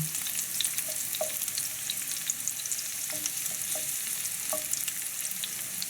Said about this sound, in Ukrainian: Ми чесночок прижаримо, він віддасть свій аромат в олійку.